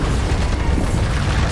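Bombarda spell blast in Hogwarts Legacy, a loud, dense booming explosion that fills the whole short burst with a rumbling roar and no talk over it.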